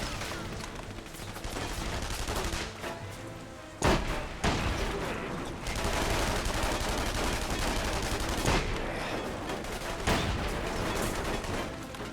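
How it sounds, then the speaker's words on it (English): Gunfire in the video game The Saboteur: sustained rattling bursts of shots with a few sharper louder cracks, dense and continuous across the clip, with faint voices underneath. "The shooting started."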